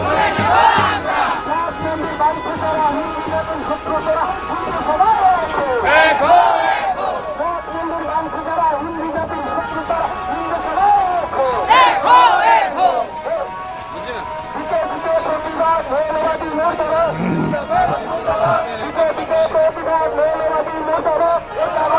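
A crowd chants at a street protest demonstration in Bangladesh, with loud, continuous massed voices rising in repeated shouted bursts and steady background hubbub throughout.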